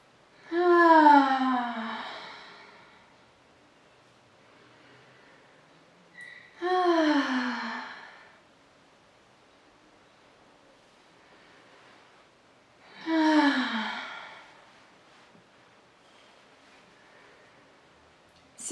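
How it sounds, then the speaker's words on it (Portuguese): Three slow, deep exhales with a soft voiced sigh, spaced about six seconds apart during a guided meditation, each a relaxing, drawn-out breath out, separated by quiet pauses. "Inspira e na hora de expirar, faça um som meio que relaxante."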